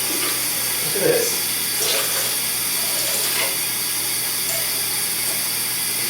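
Water rushes steadily through a leaking ten-year-old toilet supply valve, a continuous broadband hiss close by with a few brief louder surges, and no speech over it.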